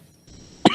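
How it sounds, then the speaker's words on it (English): A single short cough rings out in an office near the end, after a stretch of near silence. "Stop that fucking coughing."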